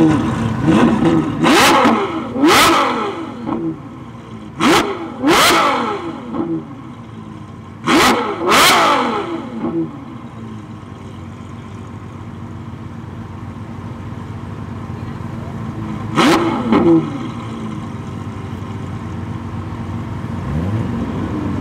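A Novitec N-Largo Ferrari F12 revs hard in several sharp, loud bursts, often in quick pairs, with rising engine howls between quieter stretches and one more distant surge later on.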